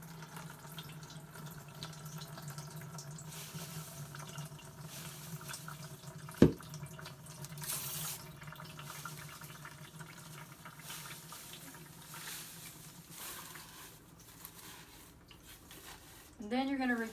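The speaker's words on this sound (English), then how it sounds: "pour your pulp through the strainer." Wet blended paper pulp pours and drips steadily through a strainer, fairly faint and continuous, with one sharp click partway through and a brief voice at the end.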